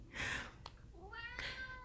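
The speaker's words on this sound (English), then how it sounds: "that's my cat George in the background, if you guys can hear him." A pet cat named George lets out a couple of meows in the background, a short cry followed by a longer, wavering meow, fairly close in a quiet room.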